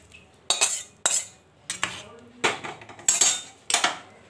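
A pot of Bhola fish curry with mustard and poppy seed is moved off the stove, giving about seven sharp metallic clanks and scrapes of cookware, close, at an irregular pace.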